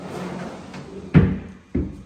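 A wooden drawer in a master bedroom, one that rubs as it slides, is pushed shut: two sharp, close knocks about half a second apart over quiet room noise.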